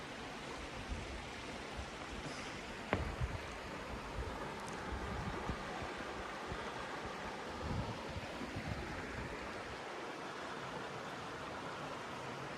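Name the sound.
Lewis Creek flowing near a covered bridge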